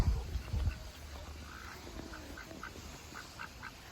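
Ducks from a backyard flock quack in short, raspy bursts, a loud cluster at the start followed by scattered quieter calls over a low background rumble.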